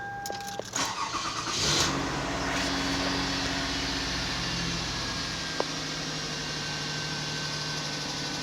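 A car engine cold-starting: a brief cranking burst, then the engine catches and settles into a steady idle for several seconds, with no talk.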